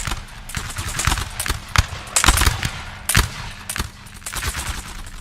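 Musket volleys and cannon fire in a Napoleon: Total War multiplayer battle crack out in irregular bursts, sharp close reports over a rolling rattle of more distant gunfire.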